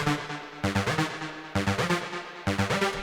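Synth chords are chopped into a fast staccato pulse by a sawtooth LFO on the amplitude, giving rapid, evenly spaced rhythmic stabs in three bursts separated by brief gaps, loud and up front.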